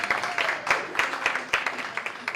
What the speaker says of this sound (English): Can we get one more round of applause, please?